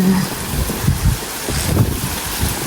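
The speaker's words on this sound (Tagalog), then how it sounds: "Mahangin po ngayon." Strong wind buffets the microphone in steady, roaring gusts, with no voices.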